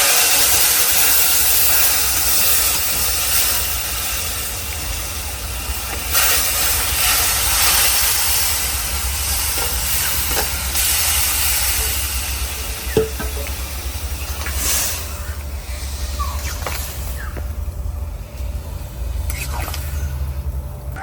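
Chopped bottle gourd is tipped into a pan of fried onions and fennel seeds and hisses in a steady, broad sizzle that runs throughout, with a few faint clinks and no words spoken.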